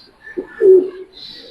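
A pigeon gives a close, low, throaty coo, brief and rolling, at a pigeon mart, with a faint higher tone in the background.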